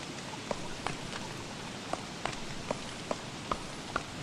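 Rain falls in Don't Starve as a soft, even hiss, punctuated by faint periodic footstep taps roughly every half second as the character moves through the downpour.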